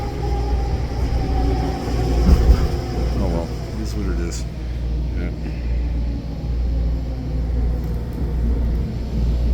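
A Mark 5 SkyTrain rumbles steadily along the elevated rail track heading back toward Waterfront, a continuous loud low roar with brief squeals, while someone speaks briefly over it.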